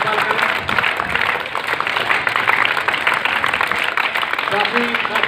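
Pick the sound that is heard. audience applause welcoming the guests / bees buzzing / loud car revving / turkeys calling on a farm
audience applause welcoming the guests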